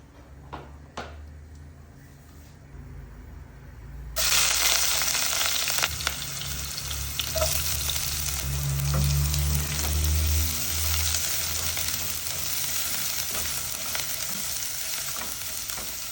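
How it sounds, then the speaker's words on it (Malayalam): Mustard seeds, urad dal, onion, green chili and ginger frying in coconut oil, starting with clinks and stirring, then a loud steady sizzle with spatula scrapes, close up and without talk. "വെളിച്ചെണ്ണയിൽ കടുക്, ഉഴുന്ന്, പിന്നെ ഉള്ളി, പച്ചമുളക്, ഇഞ്ചി ഇതെല്ലാം കൂട്ടി ഒന്ന് വാട്ടിയിട്ട്"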